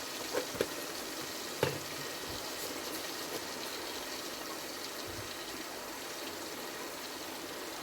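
Ground chili and turmeric sizzle with garlic paste in a pan for a chicken and potato curry, a soft steady frying hiss with a few faint clinks, fairly quiet and with no talk.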